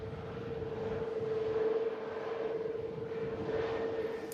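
An airliner arriving from Alicante at Manchester Airport drones steadily at a distance with a constant engine tone, moderately faint and alone, without speech.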